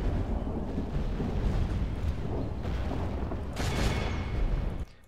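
Cannon fire in a Total War: Warhammer Empire campaign battle against Beastmen: heavy, rumbling booms roll together into a sustained thunderous barrage that ends abruptly, with no speech over it.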